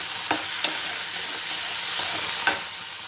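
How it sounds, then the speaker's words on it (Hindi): Tomatoes hitting a hot pan, a steady close sizzle with a few light clicks of stirring, no voices. "अब डाल देंगे हमारे जो टमाटर हैं उनको,"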